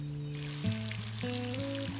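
Water poured from a watering can onto plants in a garden simulator game: a soft, steady hiss of trickling water with tonal game music underneath, no talking.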